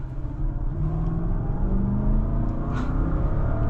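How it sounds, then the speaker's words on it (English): A Lexus LS 460 sedan's V8 engine pulls under acceleration, a steady, loud low rumble with rising tones that build across the whole stretch, heard from inside the car with no talking. "Every single Lexus I've driven with the V8 always sounds phenomenal."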